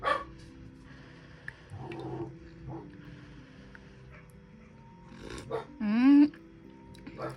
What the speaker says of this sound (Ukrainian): О, собака казиться.